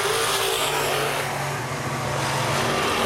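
Open wheel modified race cars roar around Baer Field Speedway in a continuous, loud, dense engine drone, several cars blending together with no break.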